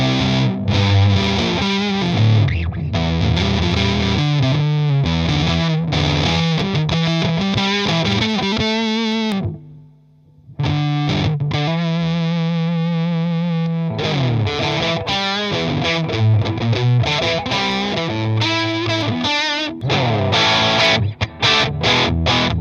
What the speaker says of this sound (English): I'll switch over to the Les Paul now and see what happens.